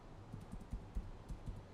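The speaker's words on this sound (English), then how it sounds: "I will probably just type here" Faint, soft keystrokes on a computer keyboard, about eight irregular taps in under two seconds, alone in a quiet room.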